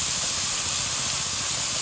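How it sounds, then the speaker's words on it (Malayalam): Onions tossed into hot oil for a prawn biryani give off a loud, steady, close-up sizzle, a dense hiss that holds unbroken for the whole moment. "നമുക്കതിലേക്ക് ഉള്ളി ഇട്ട് കൊടുക്കാം"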